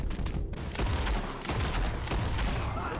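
Dense gunfire in a Red Dead Redemption 2 shootout: rapid overlapping shots and booming reports roll on continuously and loudly for several seconds, with no talking.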